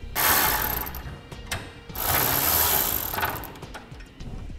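A ratchet runs a lock nut down during a B&W fifth wheel trailer hitch install on a 2013 Chevrolet Silverado, two loud sustained bursts of rapid clicking with a brief pause between them.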